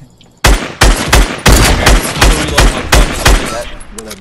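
Rapid gunfire in the Fortnite video game, roughly ten sharp, loud shots at a fast irregular rhythm over about four seconds, with faint background talk.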